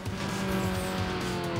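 Racing cars from the video game Need for Speed Underground roar steadily and loudly, with engine drone and faint tire squeal running throughout, no talking.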